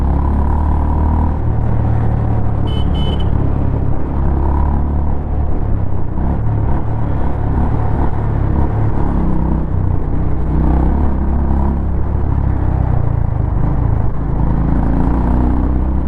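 A Honda CB350RS motorcycle being ridden through traffic, its exhaust a steady low rumble with engine whir and wind noise, constant and close throughout with no talking.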